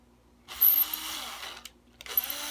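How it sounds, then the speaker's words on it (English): A power drill boring a hole into a Squier Bronco bass, two short bursts of whirring close up, the first longer with a high whine at the start, separated by a brief pause. "So let's drill that out a little bit more"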